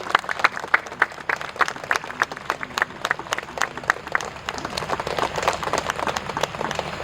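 An audience applauds on stage at a theater event as a guest is welcomed. Many sharp, distinct claps ring out in a brisk, uneven rhythm that keeps going throughout.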